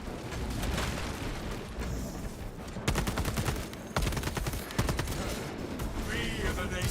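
Rapid bursts of gunfire from a flamer-style pyreblaster weapon in a video game, dense and continuous with sharp louder cracks near the three, four and five second marks, loud and close throughout.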